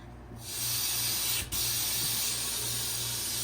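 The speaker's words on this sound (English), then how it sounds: "So first you have to open up the valves, the vacuum valve and the drain valve." Air rushes in with a loud, steady hiss as the vacuum valve on a Stay Fresh freeze dryer is opened, starting abruptly and continuing close and constant, with a brief dip midway.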